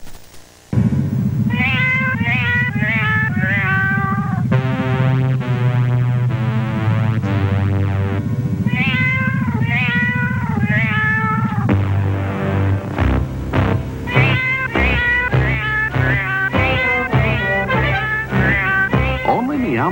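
Cats meow in a 1984 Meow Mix cat food commercial, a loud run of rhythmic, tuneful meows strung together like a jingle, with a busy musical backing.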